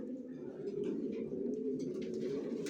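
Original racer pigeons in a loft coo in a continuous low, throaty murmur, close and steady with faint chirps layered above.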